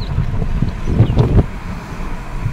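Steady sea breeze on a beach buffeting the microphone, a low rumbling gust that swells briefly in the middle and then settles, with no voices.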